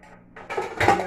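Pots, lids and a pressure cooker being stacked and put away in a home kitchen, with soft scraping building to louder metallic clatter and knocks near the end, no talking.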